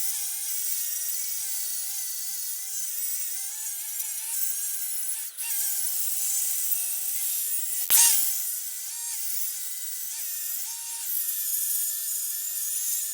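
Sanding or grinding along the edges of a temporarily welded steel bass boat trailer tongue, a steady high-pitched abrasive whine running the whole time with a sharp burst near the middle, no talking.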